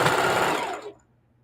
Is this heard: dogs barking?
no